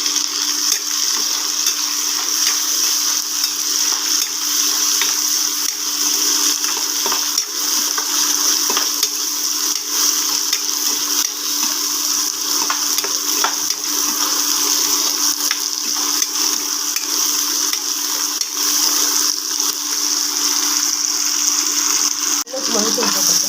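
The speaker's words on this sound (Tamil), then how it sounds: "நம்ம தக்காளி எடுத்துக்கணும், இதே நல்லா வதக்கிக்கணும்." Tomatoes sauté in a pan for a snake gourd and moong dal kootu, a continuous, even hiss of frying that stays fairly loud and steady throughout, with occasional faint stirring and a steady background hum.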